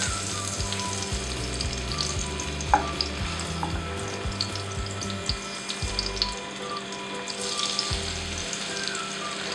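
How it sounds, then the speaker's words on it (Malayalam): Kingfish pieces coated in Kashmiri chilli masala shallow fry in hot oil, giving a steady close crackling sizzle that runs throughout with faint pops and light stirring clatter, no voices. "ജസ്റ്റ് ഒരു ഷാലോ ഫ്രൈ ആണ് ഞാൻ ചെയ്യുന്നത്"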